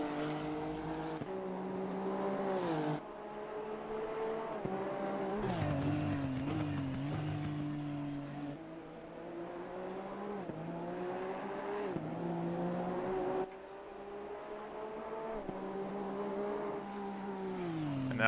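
Honda NSX Evo GT3 race car engine at Oulton Park in the video game Assetto Corsa Competizione, revving loudly and steadily with rising and falling pitch as it shifts through gears, sustained throughout without speech.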